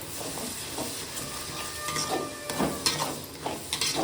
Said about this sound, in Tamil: தக்காளி வந்து நல்லா கொதிக்கிட்டோம்